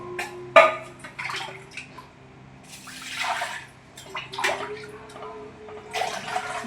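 Water runs in short, uneven gushes into a container during home cooking, with splashes and drips coming close at intervals amid quiet background clatter.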